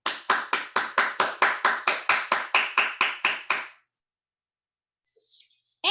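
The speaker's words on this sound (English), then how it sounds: "Let's have a round of applause for all of you." Audience clapping in unison at a girls' math and AI award ceremony, about fifteen loud, evenly spaced claps in a steady rhythm that stop abruptly, followed by silence and a faint rustle.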